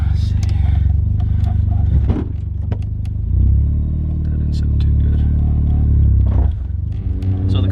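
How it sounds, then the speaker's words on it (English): A right-hand-drive Mazda FD RX-7 driven with the window down gives a loud, steady rotary engine drone and road rumble, its pitch rising and falling a little as it goes, with a few clicks and rattles and a voice talking over it. "The car does make a lot of noise"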